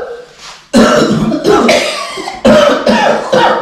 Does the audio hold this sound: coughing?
yes